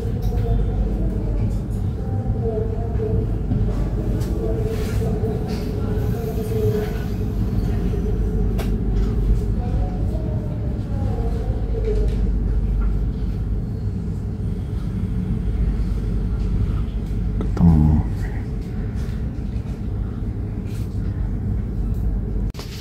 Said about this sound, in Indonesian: Ini kereta api Tegal Bahari berhenti di stasiun Bekasi.